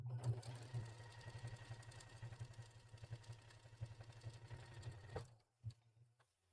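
Sewing machine running steadily for about five seconds with a fast even stitching rhythm, faint and close, then stopping, followed by a couple of single stitches.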